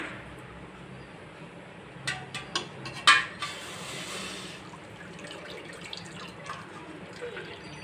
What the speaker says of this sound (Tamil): டீ தண்ணியை வடிகட்டி ஊற்றிக்கலாம்